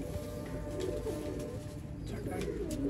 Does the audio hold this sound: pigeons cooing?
yes